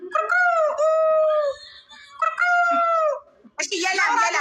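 A person's voice imitates a rooster crowing, giving two long, drawn-out, wavering calls close to the microphone, followed by a brief burst of noise.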